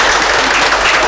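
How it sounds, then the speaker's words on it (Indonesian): A church congregation at an Easter Sunday Mass claps together, a loud, dense and continuous burst of applause filling the whole moment. "Beri tepuk tangan sekali lagi."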